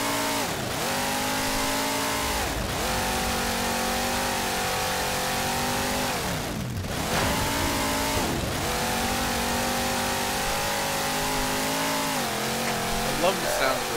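A vehicle engine in the Halo 4 video game, loud and steady and close, throaty and droning, climbing through several revving swells and dips, with spoken dialogue over it.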